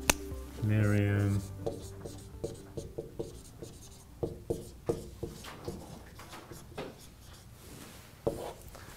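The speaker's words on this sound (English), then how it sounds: "Let me write it down." Pen scratching across paper in short, quick strokes, close and fairly soft, following a brief hum at the start and continuing in irregular bursts.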